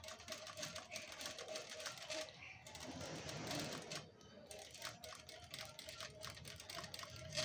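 A sewing machine stitches the lining of a bride's blouse, a steady close run of rapid needle clatter with brief pauses, no voices.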